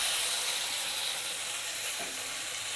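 Chopped tomato frying in oil in a pan, a steady loud sizzle and hiss holding throughout with a faint clink partway through.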